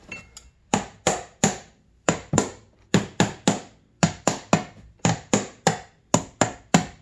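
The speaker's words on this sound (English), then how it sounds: "They should just tap right out." Metal bolts being hammered out of a snowmobile track on a 2002 Arctic Cat ZR 600 EFI, heard as a steady series of sharp, close tapping strikes, often in pairs or triplets, with no talk.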